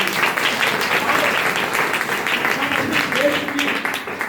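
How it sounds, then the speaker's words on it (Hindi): Sustained applause from a seated audience at a business success event in India, a dense steady wash of clapping lasting several seconds at an even level, with a faint voice underneath. "डॉक्टर विजय मौर्य सर के लिए एक जोरदार ताली"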